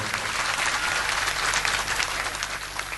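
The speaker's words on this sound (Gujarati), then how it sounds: "જોરદાર તાળીથી વધાવો જોઈએ." A large gathering at a saints' assembly in Laxmipura breaks into sustained, dense applause, loud and even for the whole stretch, with many hands clapping together and no voices over it.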